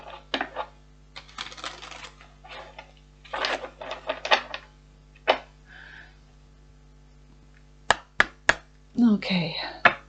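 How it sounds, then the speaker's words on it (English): Kipper fortune-telling cards being shuffled, a series of papery riffles and flicks in uneven bursts, ending with several sharp taps of the deck, close and crisp with no talk. "And one more shuffle."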